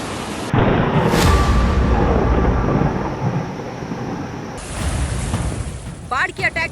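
Rushing floodwater waves roar loudly and continuously, a dense churning wash that eases slightly midway, with a faint voice or cry near the end.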